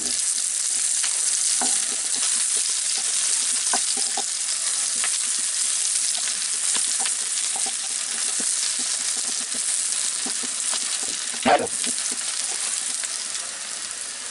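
Onions frying in a pan on a stove while cooking a Punjabi dhaba-style matar masala, a continuous close sizzle with occasional stirring scrapes and one sharper clatter near the end, no talking.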